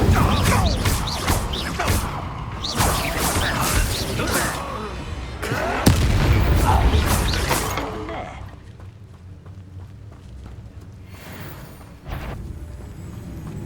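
An Incendio fire spell is cast in Hogwarts Legacy on PC: loud crackling, whooshing bursts with sharp thuds, several in quick succession, then a quieter stretch before another burst near the end.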